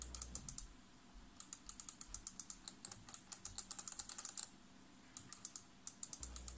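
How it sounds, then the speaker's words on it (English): The joystick of a Sega Astro City Mini arcade console is flicked around, making quick light bursts of crisp clicks in irregular clusters, close and fairly quiet with no talking. "Let's see how the joystick sounds. On the whole, extremely light and clicky."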